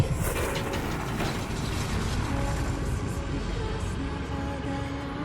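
An elevator mechanism in the video game Atomic Heart grinds and rattles steadily, a continuous mechanical ratcheting drone with faint creaks, heard alone at moderate volume.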